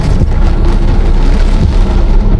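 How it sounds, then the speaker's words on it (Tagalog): Heavy rain pours down in a dense, steady roar, a loud continuous wash with no let-up and no voices. "Pero lakas na ng ulan."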